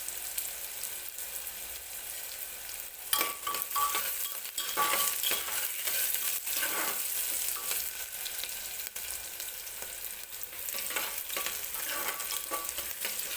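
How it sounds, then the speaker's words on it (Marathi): Onion fries in hot oil for dal khichdi with a continuous crackling sizzle, stirred now and then with soft scrapes; a sharper stir lands near the start, and no one talks. "छान असं कांदा सॉफ्ट होईपर्यंत आपल्याला तेलामध्येच भाजून घ्यायचं आहे"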